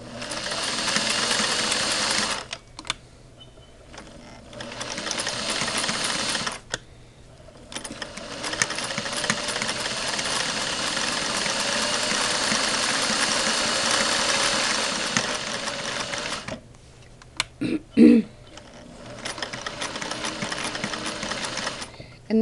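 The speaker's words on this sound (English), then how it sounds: "this is a very smooth running machine" Singer sewing machine, one of a 99, 500A or Model 20, running smoothly under foot-pedal control, with a close, steady mechanical whir in long runs broken by brief pauses.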